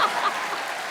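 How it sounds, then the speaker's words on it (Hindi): A studio audience claps for Archana ji on a Kapil Sharma comedy show, a brief burst of dense applause heard up close. "अब ज्यादा तालियां अर्चना जी के लिए बजाइए"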